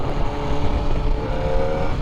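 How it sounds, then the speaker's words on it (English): Kawasaki ZX-4RR sport motorcycle engine revving with a strong intake note from the ram air intake, a steady, loud, close buzzing drone sustained throughout with no talk. "The rev I'm getting is coming from the intake. I don't know if it's that ram air intake, but that's a beautiful note right there."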